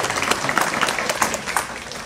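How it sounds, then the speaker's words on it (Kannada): Loud applause from a crowd of schoolboys at an event, dense steady clapping throughout without pauses. "ಜೋರಾಗಿ ಚಪ್ಪಾಳೆ ತಟ್ಟರೆ ನಿಮ್ಮ ಹುಡುಗರು"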